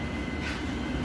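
Hammersmith and City Line train on the London Underground, a steady low rumble of the moving carriage with broadband noise and a faint hiss, continuous and fairly quiet, no talk.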